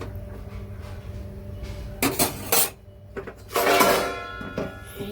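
A potato, pointed gourd and prawn curry stirred in a metal pot, with clanking of a spoon against the pot in two loud bursts and a lid clattering on, close and sharp over quiet background hum.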